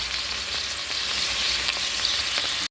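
Chicken pieces frying in a pan with a jumbo stock cube give off a steady, close, bright sizzle that runs unbroken and alone until it cuts off abruptly.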